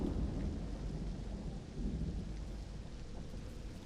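A video game thunderstorm rumbles with steady, dense rain and low thunder, a continuous wash of noise with a brief swell near the middle and no voices.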